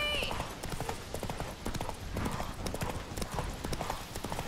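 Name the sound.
horse Roach galloping hooves, video game The Witcher 3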